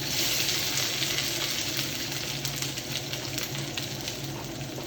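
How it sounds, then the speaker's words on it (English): Vegetables stir-fry in a teaspoon and a half of oil alongside leftover T-bone steak meat, a steady loud sizzle with occasional scraping stirs and no talk. "as I go ahead and start to stir fry the veggies"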